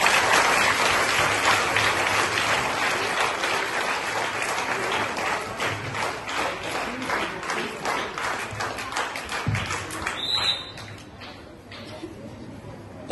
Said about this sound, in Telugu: వీళ్ళందరినీ కూడా మీరు గట్టిగా చప్పట్లు కొట్టి అప్రిషియేట్ చేయండి.